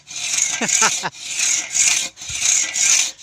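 An old hand saw cuts through wood with steady back-and-forth rasping strokes, close and loud; a voice speaks briefly between strokes.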